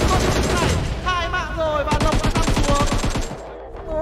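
Rapid bursts of automatic gunfire crackle through a PUBG Mobile club tournament match, peaking midway in a tight stuttering volley, under fast, excited commentary that runs throughout.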